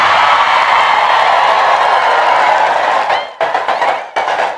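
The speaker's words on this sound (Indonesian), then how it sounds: "Kau tepuk tangan, nah kau semua pelakunya." A large audience applauds in a loud, dense roar of clapping and cheering. It breaks off abruptly near the end, and a few scattered claps follow.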